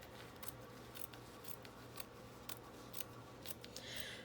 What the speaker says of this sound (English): using the little bitty fabric scissors makes me pause a moment and take my time, pay attention to where I'm cutting